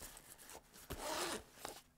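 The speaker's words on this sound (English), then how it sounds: "let's see if it zips up" A zipper closes on an Inateck EDC sling bag, a fairly close scratchy rasp with a few short pulls followed by a longer continuous run.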